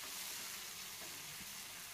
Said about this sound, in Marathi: मंद आचेवर ही फोडणी दिली तर ती जळणार नाही